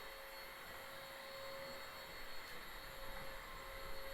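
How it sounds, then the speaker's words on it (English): An Aposen H250 cordless handheld vacuum cleaner runs with a steady whirring drone and a constant high whine, fairly faint, in a dark room, with no one speaking. "we're just using the light to vacuum right here"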